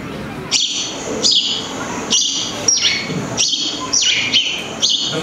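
A recorded bird call, given as sparrows or crows, repeats about seven times in a regular rhythm. Each call is a loud, shrill, falling cry set against a noisy background.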